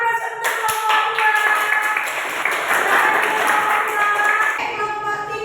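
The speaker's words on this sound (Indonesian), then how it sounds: "berikan aplaus untuk kelompok 2" A classroom of students claps together for a group's presentation, a dense, steady burst of applause lasting several seconds before fading away.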